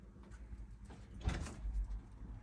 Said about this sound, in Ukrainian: Открой дверь.